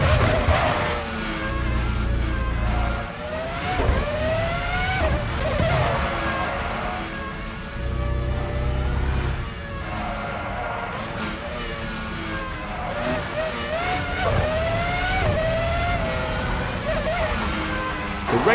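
Formula One race cars at Silverstone in the F1 2005 video game produce a continuous, loud, high engine whine that keeps climbing and dropping in pitch through gear changes, with occasional heavier roars.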